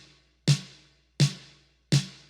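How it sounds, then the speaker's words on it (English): Roland TR-505 drum machine snare sample, three identical crisp hits evenly spaced, each with a sharp attack and short noisy decay, played alone and close. "the snare on its own would sound like this."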